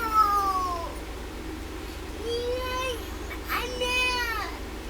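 High, wailing child cries rise and fall in several drawn-out bursts, heard at a distance over a steady low hum.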